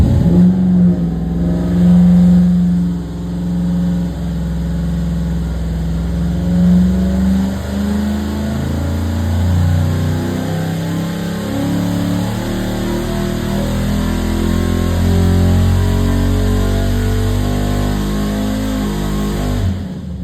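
A 534ci big block Chevy V8 revs hard on a dyno during an air cleaner test, a loud continuous engine roar sweeping steadily upward through the pull with rising harmonic tones and no talk over it.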